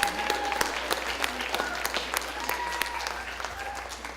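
Audience clapping at a community living association's annual general meeting, a lively round of hand claps with sharp individual slaps, while voices speak over it.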